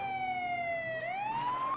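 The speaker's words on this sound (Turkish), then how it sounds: "her zaman bildiğiniz gibi sirenler mirenler patlıyor" A police siren wails in the MTA video game, a steady falling tone that then climbs back up, fairly loud and close, with no talk over it.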